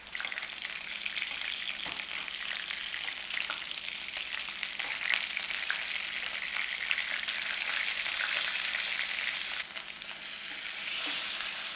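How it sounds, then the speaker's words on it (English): A sous vide pork loin steak sears on its side in a hot pan, the fat cap edge pressed down, giving a loud, continuous close sizzle with no talking. "We'll seal down the side, we'll seal down where that fat cap was."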